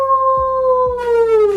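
Wolf howl, one loud sustained tonal cry that slowly glides downward, close and clear with no talking.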